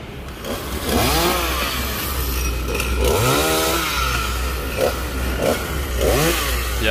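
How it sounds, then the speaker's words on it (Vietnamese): A chainsaw cuts branches of a Bucida molinetii tree beside a house terrace, its engine revving up and down in repeated rising and falling bursts, loud and close, with no voices. "Giờ anh Tùng anh sẽ cưa mấy cái nhánh ở trên cái sân thượng của cái nhà này"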